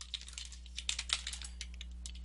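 Keys clatter on a computer keyboard in a quick, irregular run of soft clicks over a steady low electrical hum, with no voice.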